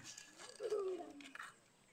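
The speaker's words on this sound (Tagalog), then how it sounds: "Marami yata ng kalapati doon." A single low pigeon coo rises and fades over about a second, close and fairly clear, with faint background noise around it.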